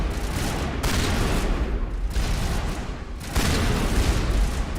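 Sustained automatic gunfire from a gun in the video game Mass Effect, a loud dense barrage in bursts with brief gaps, no voices.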